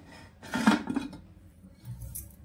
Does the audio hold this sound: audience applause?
no